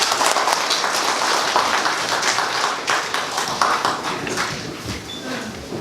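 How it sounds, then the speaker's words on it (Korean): An audience at a mayoral candidacy press conference in Gumi applauds to welcome the speaker, with dense, sustained clapping from many hands that fades slightly toward the end, no talk over it. "큰 박수로 환영해 주시기 바랍니다"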